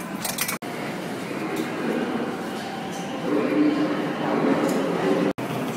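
A subway train rumbles and hums at the 14th Street–Union Square station in New York, a steady moderate roar of wheels and car noise with brief clicks, building slightly toward the end.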